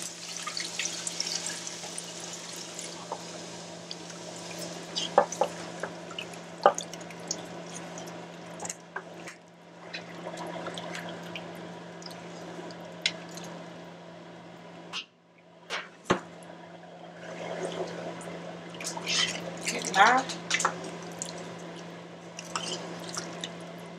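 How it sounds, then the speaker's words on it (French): Djon djon mushroom water is poured into a pot of fried spices for Haitian black rice, giving soft splashing, dripping and liquid trickles over a steady low hum, with brief pauses and a few sharper clinks. "On va vider de l'eau jonjon là."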